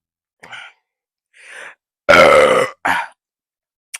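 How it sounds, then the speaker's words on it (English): A person lets out several burps during a Cajun chicken boil meal, a few short bursts and then one loud, longer belch, close up with silence in between. "I have to burp."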